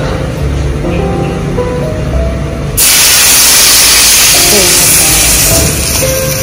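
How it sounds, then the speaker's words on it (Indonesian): Hot coconut oil is poured over sambal and erupts into a loud, close, sustained sizzling hiss that cuts in abruptly and stays steady to the end. "Tinggal mau disiram sama ini minyak kelapa."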